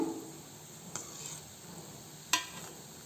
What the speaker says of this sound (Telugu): నిదానంగా ఫ్లేమ్ తిప్పుకుంటూ నేను ఫ్రై చేసుకుంటున్నానండి.